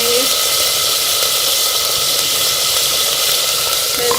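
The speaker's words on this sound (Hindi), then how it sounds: "हमारा बीफ जो है वो अच्छी तरह से लहसुन अदरक के पेस्ट के साथ भून गया है" Beef sizzles loudly as it fries with garlic ginger paste in a hot pan, a constant bright crackling hiss that fills the whole moment.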